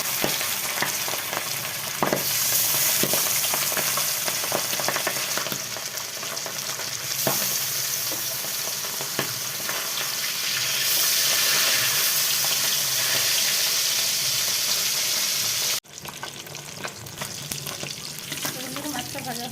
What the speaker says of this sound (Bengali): তো আবার ওই তেলের মধ্যে মাছগুলো ছেড়ে দিচ্ছি।